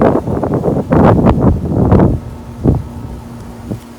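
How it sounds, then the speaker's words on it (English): Gusty wind in a tomato garden buffets the microphone with loud broadband rumble, easing off after a couple of seconds into quieter rustling with a few brief gusts. "It is so windy"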